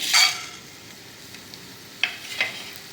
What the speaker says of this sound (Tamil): இந்த மிளகு, ஜீரகம், காஞ்ச மிளகா, மல்லி இதெல்லாம் போட்டு லேசாக வறுத்து எடுத்துக்க வேண்டியது நம்ம.